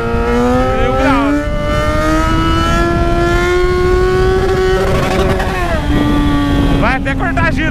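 Yamaha XJ6 motorcycle engine held high and revving up to the rev limiter, a loud, sustained close-up whine that climbs steadily, then stutters and cuts near the end as the limiter bounces.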